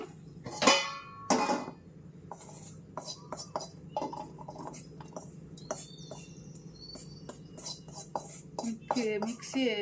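Omelette ingredients being mixed in a bowl, with sharp clinks and scraping of a utensil against the bowl in irregular bursts, loudest early on, over a steady low background hum.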